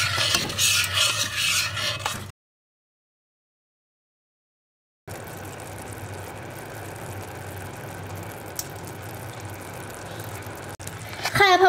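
A pot of jewel candy syrup being stirred as it heats toward a boil, a steady scraping and bubbling texture that runs continuously, cut by a stretch of silence partway through.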